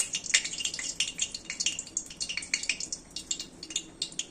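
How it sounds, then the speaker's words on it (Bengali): Cooking oil with water in it sputters and crackles in a pan, giving quick irregular pops and hisses close by with no talking. "এটার মধ্যে জল ঢুকে গেছে, তার জন্য তেলটা ফুটছে।"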